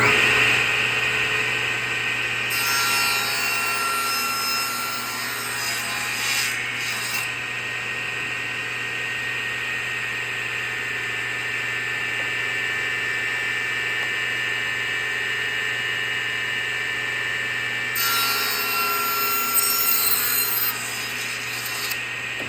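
Continuous rasping rip cut through wood for a bridle joint, steady and close, with a constant background hum and slightly brighter bursts near the start and end.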